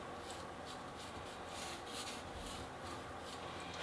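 A marble bonsai pot is hand-carved with a rasp or abrasive tool, giving quiet, repeated scraping strokes in a loose back-and-forth rhythm, close but faint, with no talking.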